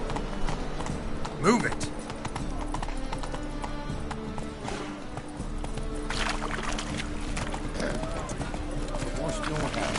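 Hoofbeats of the horse Roach clip-clop at a steady rhythm through a noisy open-world scene from The Witcher 3, running beneath someone talking and game music.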